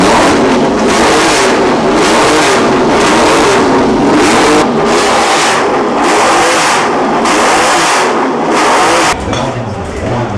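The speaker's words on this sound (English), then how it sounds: "V6, it is so loud." A historic racing car's V6 engine at the Monaco Historic Grand Prix revs hard and very loudly in repeated rising bursts close by, then drops to a rough idle near the end.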